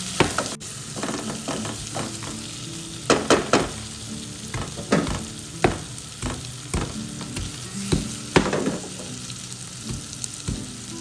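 Tomatoes join frying onions in a pan for chicken curry, producing a constant sizzle punctuated by repeated sharp spoon scrapes and knocks at an irregular pace.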